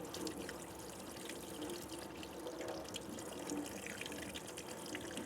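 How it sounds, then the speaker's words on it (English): Water streaming steadily from the shower wand of a BougeRV portable propane water heater at a campsite, a constant soft hiss and trickle, faint and even throughout with no talking. "It always trickles a little bit, which is kind of annoying, but that's typical of these kinds of shower wands"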